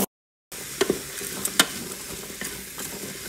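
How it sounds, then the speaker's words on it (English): Olive oil, garlic, onion and celery sauté in an Instant Pot on its sear setting, giving a steady close sizzle. Sharp clicks and scrapes of stirring break in after a brief silent gap at the start. "We're gonna saute this here until it's tender."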